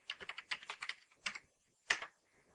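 Typing on a computer keyboard while editing a spreadsheet cell: short bursts of quick, crisp key taps in uneven clusters, with a pause and a final louder keystroke, close and fairly quiet.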